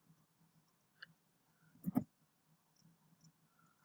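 Computer mouse clicking: a faint single click, then a louder double click, heard alone in a quiet room.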